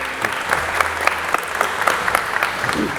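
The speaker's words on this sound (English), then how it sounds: "Guys, round of applause" An audience at a commerce roundtable applauds the panelists after their discussion, a brief burst of dense, steady clapping from a crowd.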